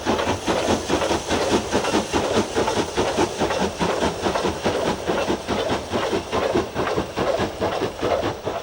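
An 8F steam locomotive hauls a freight train up a climb through summer fells, giving a steady, rhythmic chuffing over a continuous hiss with a clatter of wagons. The sound stays loud and even throughout, with no voices.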